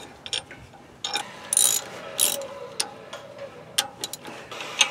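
Hand ratchet clicking in short bursts while tie rod nuts are cinched down on a Ford F-250 during an outer tie rod replacement, a close metallic ratcheting over faint shop hum with no talk.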